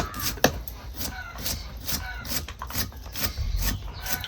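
Knife rhythmically chopping onion finely on a board for a village-style sandaga bhaji, a steady run of close, rasping cuts alone without talk.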